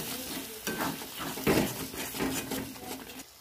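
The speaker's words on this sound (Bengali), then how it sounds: "এবার নেড়ে চেড়ে নেব।" Ground chili, turmeric, cumin and coriander powders are stirred through hot oil in a pan for chicken curry, giving a near, steady scraping and soft sizzle with a few louder clinks of the spoon against the metal.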